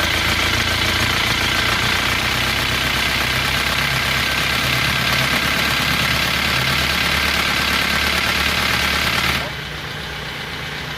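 A recently overhauled motor idles roughly, its engine running with an uneven, knocking beat at a steady, loud level close by before dropping off near the end.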